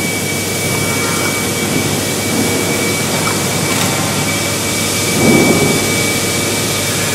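Victorian steam-powered engine machinery at Tower Bridge running with a steady, loud, broadband roar and hiss, a faint tonal hum above it and a brief swell near the end, with no talking.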